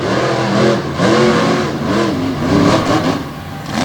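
Two 1996 Ford drag race cars launching off the line at a strip, engines roaring loud and close with rising, repeated revving sweeps as they accelerate.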